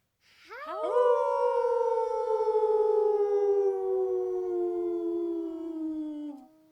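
A family howls together like wolves, with several human voices imitating a wolf pack. Long, loud, overlapping howls rise sharply and then slowly fall for several seconds, close and unaccompanied.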